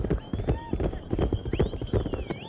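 Quick, close clip-clop of horse hooves at a horse race in mainland China, with a short whinny and voices mixed into the galloping rhythm.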